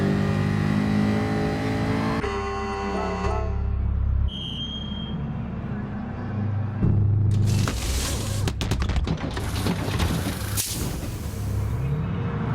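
A race car in Gran Turismo Sport at Dragon Trail Seaside revs hard and then eases off while entering the pits, its engine note rising and dropping through gear changes, with whistling and sharp clattering bursts toward the end.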